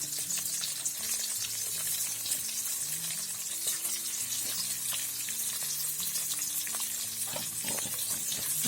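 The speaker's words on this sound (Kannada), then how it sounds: "ಹಸಿಮೆಣಸು, ಶುಂಠಿ, ಎರಡು ಈರುಳ್ಳಿ ತಗೊಂಡಿದ್ದೀನಿ. 1 ಹಾಕ್ತಿದ್ದೀನಿ ಫ್ರೈ ಮಾಡಲಿಕ್ಕೆ." Green chilli, ginger and onion fry in a pan with a dense, constant sizzle close by, broken by light stirring scrapes, and no talk over it.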